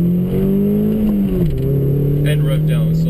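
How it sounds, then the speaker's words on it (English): A car engine fitted with a lighter flywheel hums steadily, dips in pitch as revs fall during a gear shift, then settles at a new steady drone, loud and close. "Now the lighter flywheel really helps the engine rev up quicker"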